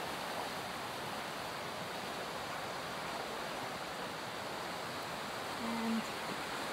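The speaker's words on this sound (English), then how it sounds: "The river flowing through." River flowing past a campsite with a forest on the far bank, a steady broadband rush of moving water that holds even and continuous throughout, close and fairly loud, with no talking.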